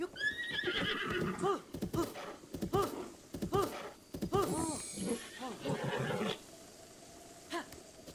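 A horse in the video game Breath of the Wild whinnies several times in loud, close bursts, mixed with clopping hooves and game sounds, and someone talks over part of it.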